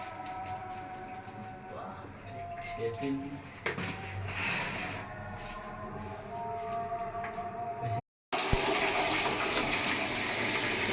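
Water gushes and splashes across a bathroom floor as it is washed, a fairly quiet, uneven rush that swells into a louder, steady pour near the end.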